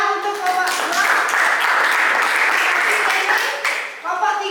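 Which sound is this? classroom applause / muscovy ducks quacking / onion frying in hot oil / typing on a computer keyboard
classroom applause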